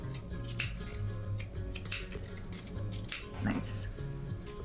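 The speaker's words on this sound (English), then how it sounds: "on the curves here, I have these scallop scissors, so I'm just gonna go ahead and" Scallop-edged craft scissors snip through craft material in a handful of crisp, close cuts, with faint talking and background noise underneath.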